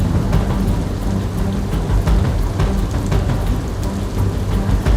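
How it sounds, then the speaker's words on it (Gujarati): Heavy downpour of rain in Bhabhar, Banaskantha district, Gujarat, during flooding, with thunder rumbling through; a loud, steady roar of rain, no voices. "વાવથરા જિલ્લાના ભાભરમાં ધોધમાર વરસાદ તૂટી પડ્યો."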